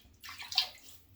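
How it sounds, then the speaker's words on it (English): A brief splash of water from a sink scooped onto the face before shaving, a single quiet close-up slosh lasting under a second. "A little water in the face."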